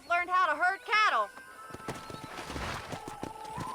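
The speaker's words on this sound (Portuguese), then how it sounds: "Vamos montar no meu cavalo." A horse whinnies twice loudly up front while riding in Red Dead Redemption, followed by softer hoof clip-clop beneath game voices and ambient noise.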